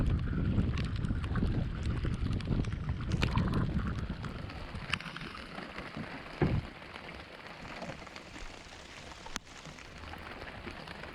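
A sailboat weighing anchor and getting under way toward Potts Harbor near Harpswell, heard as a continuous wash of wind buffeting and water noise, with occasional knocks and creaks from the boat.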